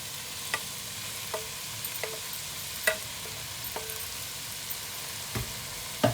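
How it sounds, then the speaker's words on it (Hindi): Boiled pasta is stirred together with chicken and vegetables in a frying pan, a soft sizzle running underneath sparse, scattered utensil taps and scrapes, close by and without speech. "अब इसे भी अच्छे तरीके से मिक्स करेंगे।"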